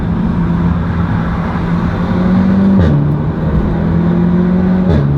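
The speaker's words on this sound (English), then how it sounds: "It seems to be going in gears alright. I mean, it's shifting fine." A Cupra car with a custom DSG gearbox tune drives under a loud, steady engine drone that rises, then drops sharply twice as the gearbox shifts, heard from inside the car without talk.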